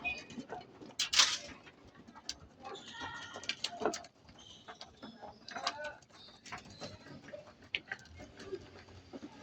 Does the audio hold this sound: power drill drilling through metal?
no